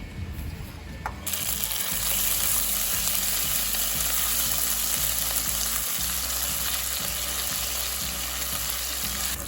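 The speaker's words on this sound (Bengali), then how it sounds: "এক চামচ আদা বাটা এক চামচ গোটা জিরে বাটা আর দুটো শুকনো লঙ্কা বাটা এগুলো সব তেলের মধ্যে দিয়ে দেবো" Ginger paste, cumin paste and dried red chilli paste hit hot oil for a malai paneer, bursting into a loud, steady sizzle after a quiet first second. The sizzle holds close and even throughout.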